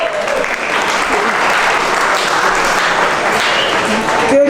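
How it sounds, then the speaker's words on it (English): A room of guests at a retirement party applauds for Gail, dense and fairly loud clapping that holds steady for several seconds, with a faint voice emerging near the end. "Give her a round of applause."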